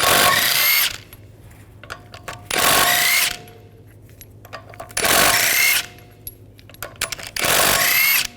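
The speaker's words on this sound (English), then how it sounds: "We're going to remove the wheel, use a 17mm socket, take the lug bolts out." A 17mm socket on a power tool spins lug bolts out of a Volkswagen GTI wheel during a 2010-2014 rear brake job, four loud separate bursts of whirring roughly a second long each, with short pauses and small clinks in between.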